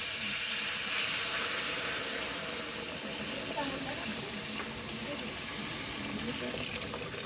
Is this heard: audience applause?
no